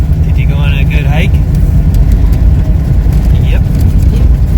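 A Ford Bronco drives along with a loud, steady low engine drone and road rumble throughout, and a voice speaks briefly over it.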